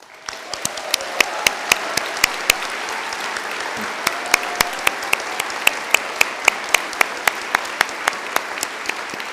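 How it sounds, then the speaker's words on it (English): A large audience at a university winter conferring ceremony gives a sustained round of applause, dense clapping steady throughout with a few sharper nearby claps standing out, no voices over it. "take a moment to acknowledge the support that you've received, as well as your collective achievements, with a warm round of applause"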